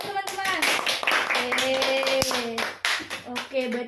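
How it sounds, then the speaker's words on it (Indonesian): Students in a classroom clap together in quick bursts of applause while children's voices and speech come through alongside the clapping. "berikan tepuk tangan jawabannya benar teman-teman."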